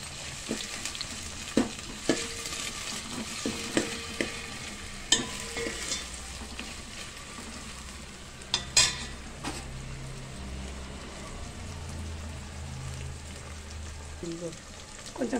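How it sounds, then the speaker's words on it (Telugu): Green chili slits and ginger garlic paste frying in a pan for sambar, a steady sizzle broken by irregular spoon clinks and scrapes against the pan, with a voice talking over parts of it. "ఇవి 4-5 పచ్చిమిర్చి చీలికలు, ఒక్కసారి కలుపుదాము."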